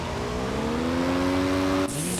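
Motorcycle engine in the PUBG video game, a steady droning motor with rising pitch as it accelerates, loud and close, ending abruptly with a hissy change.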